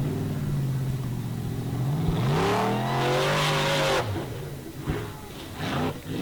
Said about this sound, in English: This is an extremely powerful car.